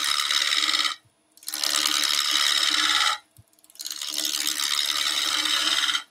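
A skew chisel cuts a staircase spindle on a wood lathe, giving three close, steady raspy shearing passes separated by brief pauses, loud and alone.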